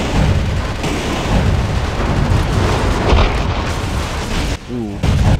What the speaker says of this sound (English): I guess just the recoilless rifle.